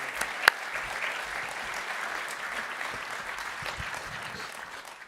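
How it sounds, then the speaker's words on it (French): An audience applauds prize winners at a 2017 awards ceremony, producing a steady round of clapping from a seated crowd that holds at an even level throughout. "on peut les applaudir"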